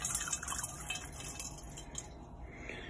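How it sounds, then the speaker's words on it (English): Liquid, 200 millilitres of Bio-Rad buffer concentrate, poured through a funnel in a lab, a soft steady trickle and splash with glassy dripping, close and fairly quiet, with no talking. "Pour it in."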